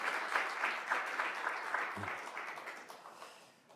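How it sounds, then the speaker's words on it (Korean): Seminar audience applauding researchers as they are introduced, a dense round of clapping from a room of people that holds steady, then tapers off toward the end. "박수로 좀 격려해 주시면 좋겠습니다"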